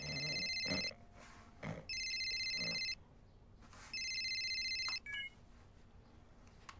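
A telephone in a film scene rings in three evenly spaced electronic bursts, each about a second long, clear and close over a low room hum.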